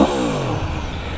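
A 2021 Aprilia Tuono V4 Factory motorcycle with its stock exhaust, the V4 engine revving close by: a loud blip opens the clip, then the note falls away in a smooth, steady drone.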